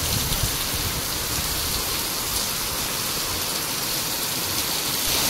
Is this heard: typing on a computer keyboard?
no